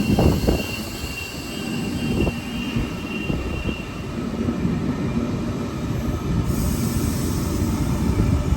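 A Sydney suburban train rolls through a station platform, close and loud, with a steady wheel rumble, rattling clanks and a faint high squeal as the carriages pass; nobody talks.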